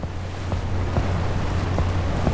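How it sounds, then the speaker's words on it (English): Water sloshing and washing around a boat at sea in the video game Seafarer, a steady close wash of surf with light wind noise and a few soft low thumps, no voices. "All that water splashing around."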